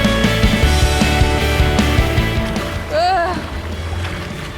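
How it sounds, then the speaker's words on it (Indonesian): Waves slosh and churn against a small fishing boat at sea, a constant wash of water and wind with a low motor drone beneath, and a brief whistling cry rising over it partway through. "ombaknya juga mulai kencang"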